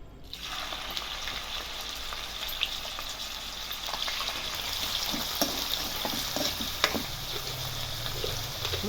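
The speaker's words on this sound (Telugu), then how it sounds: "ఇప్పుడు నూనె వేడెక్కింది కదండి ఇప్పుడు పచ్చిరొయ్యలు వేసుకోవాలి" Raw prawns sizzle in hot oil for a gongura curry, producing a constant close crackling hiss with scattered small pops and spits toward the end.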